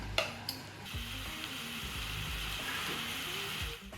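Food sizzles as it fries in mustard oil in a clay pot, with a soft steady crackle and a few clinks and stirring scrapes at irregular moments, fairly quiet and close.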